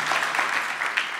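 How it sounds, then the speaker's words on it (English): Brief round of applause from a graduation ceremony audience at the VUT Secunda campus, a dense short burst of clapping heard from within the hall. "could you please stand up and quick round of applause?"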